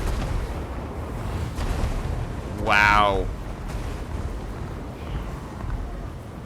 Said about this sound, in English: Look at the flame cannons that are targeting like the single zombie units up in the air.